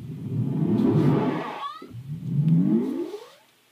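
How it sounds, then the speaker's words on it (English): A Korg MS-20 synthesizer plays two low, rumbling swelling tones with a sharp bright sweep between them, then fades out, loud and alone with no talk. "Sound of MS-20."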